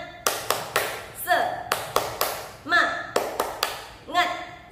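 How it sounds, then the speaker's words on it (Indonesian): Children's rhythmic clapping game, tepuk semangat, led in a kindergarten lesson: several sharp sets of hand claps in a steady pattern, close and loud, with voices chanting between the beats. "Di sebelumnya, tepuk semangat dulu."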